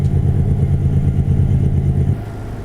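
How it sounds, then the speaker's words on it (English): A heavy truck's engine brake in American Truck Simulator while hauling a heavy load in Texas: a loud, steady low rumbling drone that drops off abruptly near the end, leaving a quieter engine hum. "Hear my engine brake? I am slowing down."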